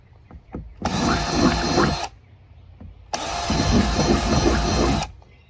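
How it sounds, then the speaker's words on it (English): A power drill whirs loudly drilling holes in two sustained bursts of about a second and two seconds, with brief quiet gaps and small clicks between them. "I need to drill some holes"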